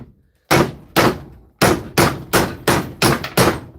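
Eight sharp hammer blows ring out close and loud, spaced unevenly at first then in a quicker steady rhythm, each strike ending in a short decaying clang, with no talk.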